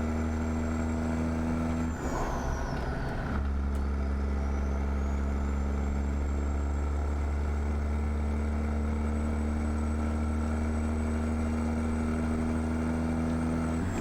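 Steady low drone of a 650-horsepower Peterbilt 379 truck engine driving in American Truck Simulator, with a brief burst of noise near the start, then even, constant rumble throughout.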